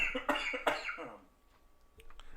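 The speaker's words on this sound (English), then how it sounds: "I do apologize for the coughing" A man coughs two or three times in quick harsh bursts and clears his throat, close and fairly loud, followed by quiet room sound.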